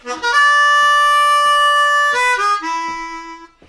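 A harmonica in A plays a short bluesy phrase, sliding up in a glissando into a long held bright note, then stepping down through a few notes to a lower one.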